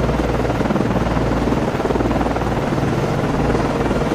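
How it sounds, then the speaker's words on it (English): A naval helicopter launching from the frigate USS Nicholas (FFG-47) in the submarine game Cold Waters, its rotor and turbine a loud, steady, close thrumming roar without a break. "Con, flight code, launching aircraft."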